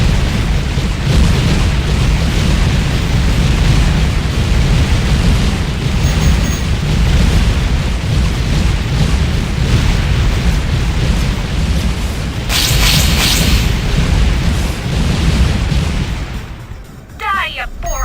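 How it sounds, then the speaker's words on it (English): Dense, continuous roaring barrages of Helios rocket explosions in the space combat game Tachyon: The Fringe, loud and sustained throughout with little letup. "that's a lot of Helios rockets."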